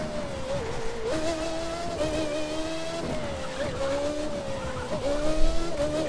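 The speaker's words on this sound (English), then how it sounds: "just something about the sound of that engine" Car engine in The Crew 2 racing game roaring at high revs, a steady tonal whine that dips and climbs again with each gear change, loud and close with no talking.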